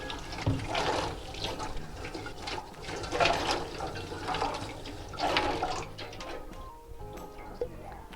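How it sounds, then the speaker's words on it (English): Running water splashes and gurgles continuously, swelling and easing as dishes are rinsed under a tap at an animal shelter, with faint clatter. "Rinse again."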